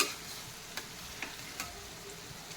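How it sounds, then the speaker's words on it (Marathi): Stuffed eggplants cooking in a covered pan, a faint continuous sizzle with soft, evenly spaced ticking pops, close and quiet with no voices. "छान अशी वांगी आपली शिजत आहेत आणि खूप छान दिसत आहेत ते"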